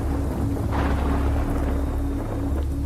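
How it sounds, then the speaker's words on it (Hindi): Steady rain hisses throughout with a low rumbling undertone, like distant thunder rolling beneath the downpour; no voices. "बाहर बारिश की थपथपाहट और बिजली की गड़गड़ाहट"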